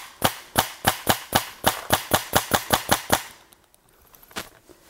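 A paintball gun fires at a camera lens at close range, a dozen rapid, evenly spaced sharp pops in a steady burst before stopping, then one softer knock.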